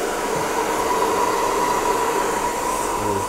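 A hair dryer blows on a client's hair in a barbershop, giving a loud, steady, unbroken whoosh of air for the whole stretch.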